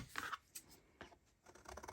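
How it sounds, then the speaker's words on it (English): Scissors cutting out a paper image for a craft project, several short crisp snips and rustles close up and quiet, with no talking. "I'm going to cut this out with scissors."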